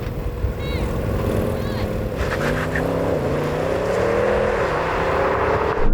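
Audi S8 cars in a drag race, heard as a steady rising engine drone with pitch climbing through gear changes, loud and sustained, with faint background noise.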